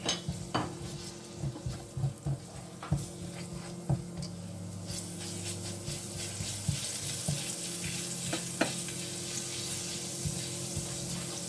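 Garlic fries in oil in a pan for a seafood stir fry, a low steady sizzle under frequent clanks and scrapes of a utensil against the pan, close and without talking.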